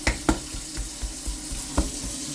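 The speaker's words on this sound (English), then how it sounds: "I'm going to put a little bit of water and mix it" Tap water running and being stirred while mixing a spritz for seasoning a large brisket at home: a steady low wash of water with a few sharp clinks and splashes, close and moderately loud, with no talking.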